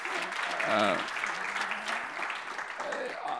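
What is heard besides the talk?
audience applause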